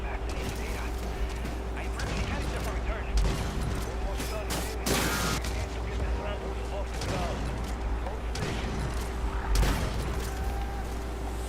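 Rapid gunfire from a fast-firing gun in a shooter video game, bursts of sharp shots crackling through a busy mix of game mechanism noise and voices talking over it.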